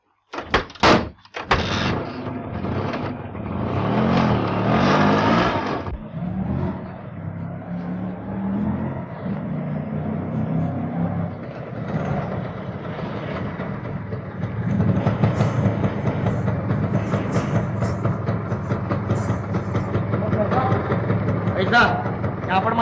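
An auto rickshaw is chased through the street while a vehicle engine idles and rumbles nearby, steady and close. A door clunk and other knocks come at the start, and voices talk over the engine noise.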